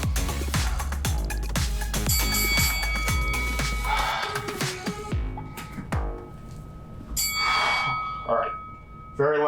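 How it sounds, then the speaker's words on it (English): A workout interval bell rings out several times in quick succession with a bright metallic clang, loud and close, over busy background noise and some voices. "Start on the next bell."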